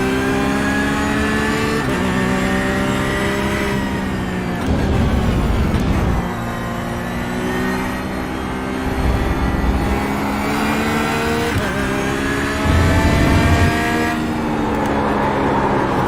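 A car engine in a driving simulation game holds steady harmonic tones, then surges and revs as it shifts through gears. It sounds loud and close, heard from the cockpit, with no talking.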